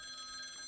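A telephone rings in the video game Follow the Darkness, sitting in a room of its own. The ring is a steady, bright, faint electronic trill that carries through the brief moment with no talking.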